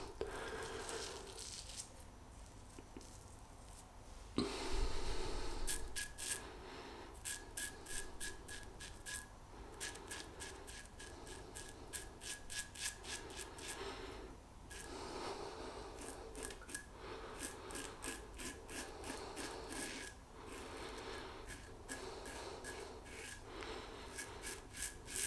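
FaTip Piccolo safety razor trimming whiskers, close-up dry scraping strokes in quick rhythmic bursts with short pauses, crisp and rasping, heard alone without talk.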